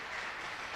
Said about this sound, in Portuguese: Você pode aplaudir ao Senhor pela palavra dele.